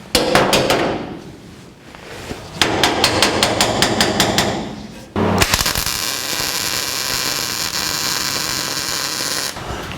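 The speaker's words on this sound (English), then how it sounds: "Here we are welding in the first brace" Close-up welding on firewall braces for a 1949 Chevrolet gasser, with rapid crackling pulses in bursts, brief pauses, then a steady loud sizzling buzz running to the end, no voices.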